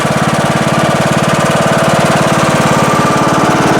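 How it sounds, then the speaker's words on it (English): A lawn tractor runs with its mower deck blades engaged, giving a steady, loud, close engine drone with a fast, even pulsing chop. No voices are heard. "sit on the tractor, engage the blades, and we'll take a look below how smoothly everything is running"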